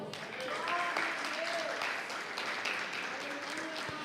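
A church congregation applauds during an evening service: a faint, dense patter of many hands clapping at once, with voices carrying faintly over it.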